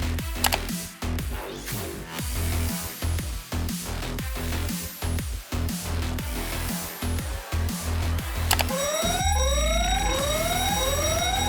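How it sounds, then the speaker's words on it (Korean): A fire alarm sounds in a simulated laboratory emergency drill, its loud repeating tones pulsing steadily, then giving way to a rising, sweeping electronic alarm near the end, with no voices. "화재 경보기 버튼을 눌러 연구원들이 대피할 수 있도록 하십시오."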